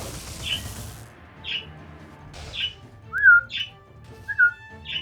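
Video-game birds in Wizard of Legend squawk and chirp in a repeating pattern of short calls, with two louder whistling squawks in the middle, over a low game ambience.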